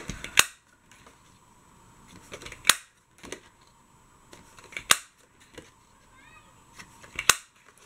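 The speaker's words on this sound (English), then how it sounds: "I'm going to use my 1/2 inch punch, and I'm just going to punch out 5 circles" A half-inch paper punch snaps out circles in crisp, sharp clacks, four or five evenly spaced punches up close, with quiet rustling of paper between them.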